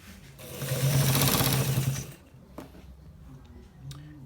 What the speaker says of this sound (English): So guys, we are stitching it, so watch it carefully